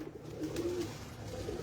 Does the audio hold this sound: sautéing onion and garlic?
no